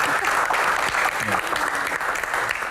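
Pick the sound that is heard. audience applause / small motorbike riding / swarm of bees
audience applause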